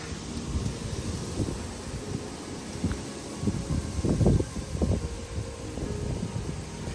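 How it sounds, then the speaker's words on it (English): Strong wind blows through a garden in spring, a steady broadband rush with low rumbling gusts that swell and buffet the microphone, loudest around the middle and continuing without speech. "The wind is really starting to pick up."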